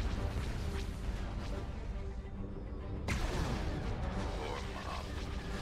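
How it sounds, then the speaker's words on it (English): In the Star Wars Empire at War game, a hypervelocity gun fires with a heavy, booming blast, a sharp onset followed by a rumbling tail, over a dense background of battle noise. "I think the next hypervelocity gunshot goes for you, or you."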